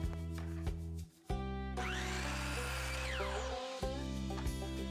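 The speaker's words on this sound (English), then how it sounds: "So first we're going to start off by trimming our end of our board." A power saw trims the end of a wooden fence picket board: a loud, steady whining cut that briefly drops out early, then runs on close by with no talk.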